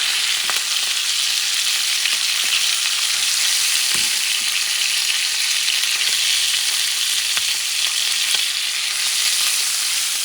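Chicken thighs simmering in a pot for Cajun-style gumbo just above medium heat, giving a steady, fairly loud bubbling sizzle with occasional stirring knocks throughout.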